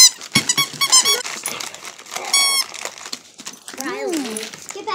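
Squeaky dog toy squeezed repeatedly at a dog's birthday, loud sharp high squeaks in quick bursts, close up, with people talking around it.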